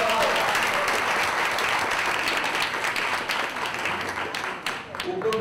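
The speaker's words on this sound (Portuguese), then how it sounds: "Salva de palmas, professor!" Steady, dense audience applause for a professor at a Pint of Science Brasil event, continuous clapping from a crowd filling the room for several seconds.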